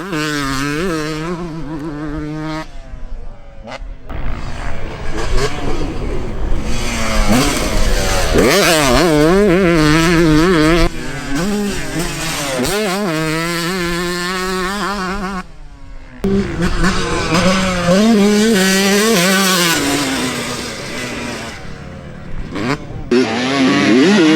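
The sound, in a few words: Yamaha YZ motocross bike being ridden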